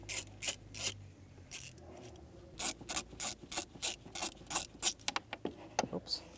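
A ratchet loosening T25 screws inside a 2012-2020 Ford Focus, near and clear: a string of quick clicking ratchet strokes in uneven bursts, with faint mechanical rubbing and handling between them.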